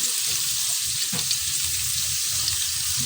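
Garlic frying in oil for ginisang ampalaya, a strong steady sizzle with a bright hiss and light stirring clatter, close and alone.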